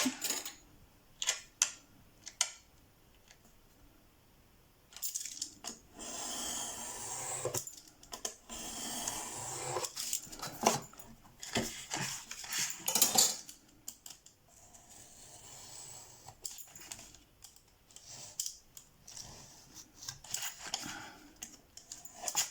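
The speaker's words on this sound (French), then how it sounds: "Je vais découper ce qu'il y a en trop." Paper being trimmed by hand while making a handmade mini album, with close, irregular bursts of snipping and rustling scraping separated by short pauses; no one speaks.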